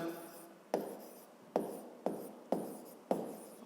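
Pen or pencil writing by hand on paper, a series of about six sharp scratchy strokes at a steady pace, close and fairly quiet, with no talk over them.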